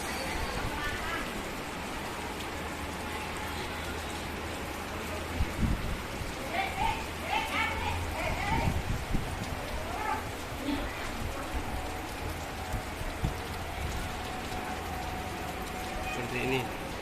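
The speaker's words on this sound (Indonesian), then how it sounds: "Hujan deras." Heavy rain falls on a forest while sheltering under a prayer house, a constant broad wash of water noise with a low rumble, under intermittent talking.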